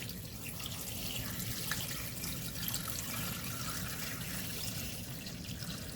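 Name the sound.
water filling a container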